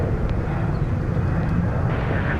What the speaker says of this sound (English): trundling down to the end of runway 36 right for takeoff to Brisbane, America's longest distance flight from here at DFW